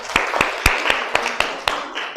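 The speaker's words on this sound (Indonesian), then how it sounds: "Tepuk tangan dulu." A ninth-grade junior high class in Indonesia claps after a group presentation during a science lesson on electric circuits: a run of sharp, evenly spaced claps, close and moderately loud, over a faint murmur in the room.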